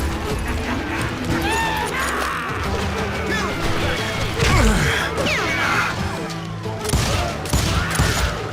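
Gunfire in the Western shooter Call of Juarez Gunslinger: rapid overlapping shots and crashing impacts over several seconds, loud and continuous, with a voice shouting amid the battle.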